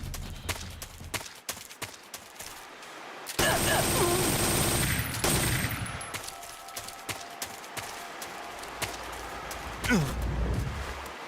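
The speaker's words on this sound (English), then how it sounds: "Assault rifle." Assault rifle fire in the video game Metal Gear Solid 3: Snake Eater comes as a loud sustained burst after scattered sharp shots, amid ambient game sound and talk.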